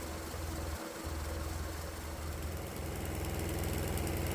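A diesel engine runs on a vegetable oil fuel mix, suspected of an injection-system fault, with a steady low idling drone and faint knocking vibration that continues evenly throughout at moderate distance.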